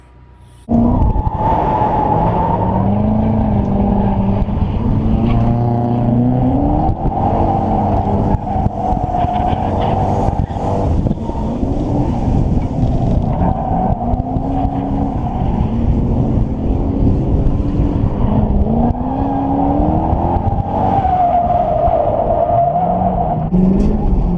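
A Lexus GS430 drift car's engine roars and revs continuously, with rising and falling pitch and squealing tire sounds as the car drifts, close and sustained.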